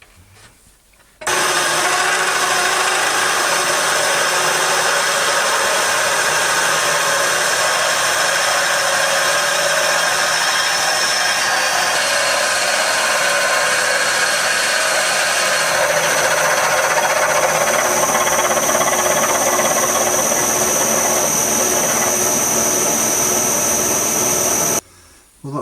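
A lathe drills a hole through the centre of a steel block, a loud steady grinding whine of the cut running continuously for over twenty seconds, shifting slightly in pitch midway before cutting off.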